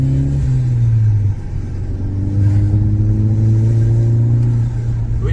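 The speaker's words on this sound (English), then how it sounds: "it's got a 2-litre 4-cylinder turbocharged petrol engine, pushing out 210 brake horsepower" A VW MK6 Golf GTI with a 2-litre four-cylinder turbocharged petrol engine making 210 brake horsepower revs nearby, its loud, steady droning note dipping briefly then climbing again as the revs rise and hold.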